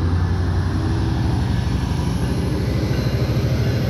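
A double-decker diesel train pulls out of Prospect Heights railway station with a loud, steady low engine rumble and rhythmic wheel clatter close by, and no voices.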